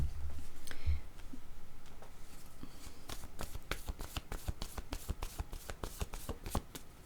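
Tarot cards are shuffled and drawn by hand, starting with a few soft handling sounds and building into a quick, close run of crisp riffling clicks.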